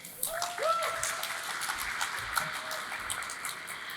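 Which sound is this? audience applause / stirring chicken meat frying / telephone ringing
audience applause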